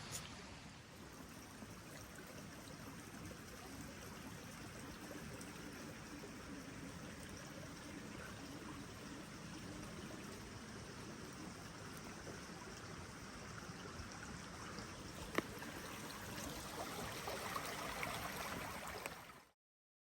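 A river's flowing water runs as a steady, broadband wash at an even level for about twenty seconds, with no voices and no clear change beyond one brief sharp tick near the end.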